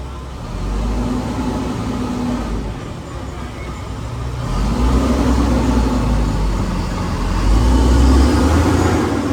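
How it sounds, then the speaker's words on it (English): A big, loud truck passes on a city street in Uptown Charlotte, a heavy low engine rumble that swells as it goes by, with steady traffic noise beneath and no talk. "Big loud truck behind me."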